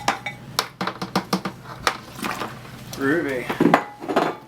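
A Coopers English Bitter home-brew mixture stirred in a pot, irregular knocks and scraping taps against the pot, close by, while someone speaks briefly over it.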